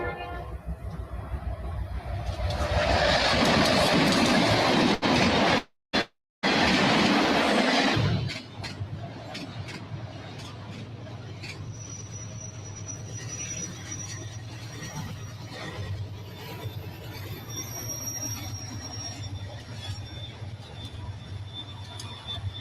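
Union Pacific 844 steam locomotive helps a freight train on the line, with a loud rushing roar of passing rail traffic for several seconds that settles into a steadier distant rumble with faint clanks.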